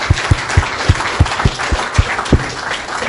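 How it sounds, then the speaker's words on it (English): An audience at a business event applauds a speaker being called up, a dense steady wash of clapping with a few louder claps standing out near the front. "let's give Adam a round of applause"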